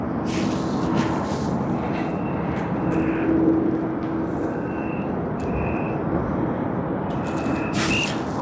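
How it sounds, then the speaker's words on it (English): A Japan Airlines Airbus A350-1000 at snowy Tokyo Haneda Airport gives off a steady broadband jet engine roar, loud and continuous with no talk over it. "Oh, the A350-1000"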